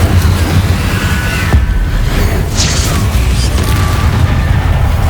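The Incendio fire spell is cast in Hogwarts Legacy, giving a dense rushing, booming blast of flame that roars on loudly and continuously with a sharp burst partway through.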